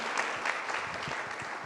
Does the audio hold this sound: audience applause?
yes